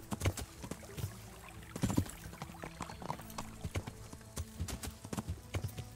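Horse hooves clip-clopping in the medieval video game Kingdom Come Deliverance, a steady run of close, distinct hoof strikes with no talk over them.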